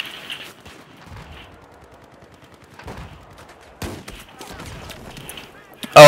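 Gunfire in a first-person shooter video game: quiet stretches broken by sharp bursts of shots, with a loud burst at the very end.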